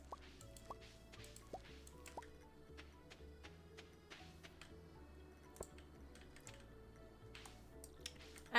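Crops being watered in Stardew Valley: soft, quiet droplet blips and small ticks recur at irregular intervals over faint background music, with no voices.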